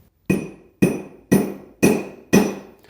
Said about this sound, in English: And you want to make sure when you're hammering, you want to pick the hammer up and drop it vertically.